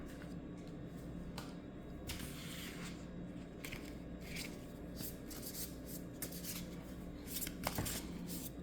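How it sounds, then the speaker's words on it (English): Tarot cards being shuffled and drawn make a soft, steady riffling and sliding rustle, quiet and close, continuing without pause and with no speech. "I'm going to pull one more card"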